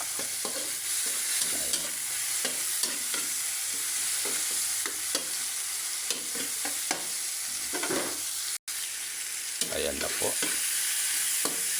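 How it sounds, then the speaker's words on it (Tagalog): Shrimp paste (bagoong alamang) sautéing in a pan for Bicol Express, a loud continuous sizzle broken by scraping stirs, with a brief spoken interjection partway through. "ilagay na po natin itong ating bagoong alamang. Ayan, igigisa lang po natin yan"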